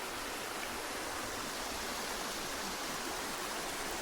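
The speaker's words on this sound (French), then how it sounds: "sur les rapides là, de la rivière." River rapids rushing beyond trees in a forested riverside setting with nearby streams, a faint, constant hiss of churning water with no voices.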